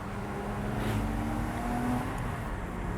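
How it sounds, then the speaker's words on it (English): A 2011 Porsche Boxster Spyder exhaust drones steadily at a constant, moderately loud level, with a smooth engine hum and no voices. "That exhaust sounds really good."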